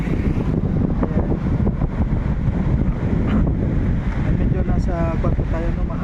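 Strong, cold wind buffets the microphone in a constant roar at Bagasbas beach, with surf in the background and faint voices partly drowned out.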